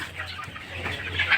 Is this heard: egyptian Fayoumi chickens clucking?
yes